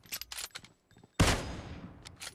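A sudden loud gunshot from PUBG Mobile, a sniper-mode match, bursts out and rings off in a long echoing tail. A few softer shots and game sounds come before it.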